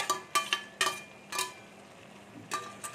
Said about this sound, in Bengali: ডালটা ঘেঁটে নিচ্ছি